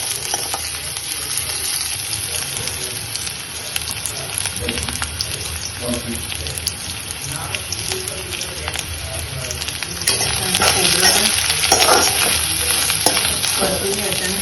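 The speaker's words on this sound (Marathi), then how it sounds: "परतून घ्यायचं आणि खोबरं पण छान लाल तांबूस रंगापर्यंत भाजून घ्यायचं." Onion and grated coconut sizzle steadily in hot oil in a pan, a constant close frying hiss with occasional stirring scrapes, growing slightly louder near the end, while someone talks.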